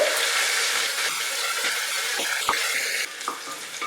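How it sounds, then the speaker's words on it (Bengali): Salted mixed vegetables fry in a pan over medium heat for a vegetable pulao, giving a constant close sizzle with scraping stirs and soft clacks of a spatula against the pan. "সবজিটাকে মাঝারি আঁচে আমি ফ্রাই করব"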